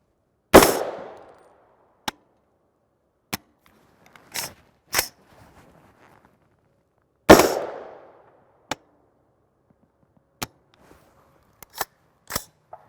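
A rifle fires 300 Blackout 208gr A-MAX subsonic rounds: two loud, sharp reports several seconds apart, each followed by a short echo, with lighter metallic clicks and clacks of the action and ejected brass in between.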